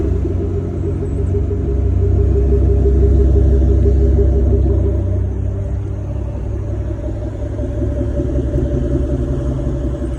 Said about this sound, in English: This one comes with a remote start, so let's step around back and hear that V8 come to life.